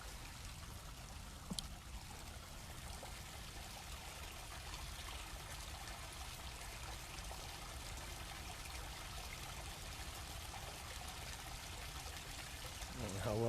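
Water trickles and pours steadily outdoors, a faint continuous wash lasting throughout with little change, distant and low in level, with a brief click near the start.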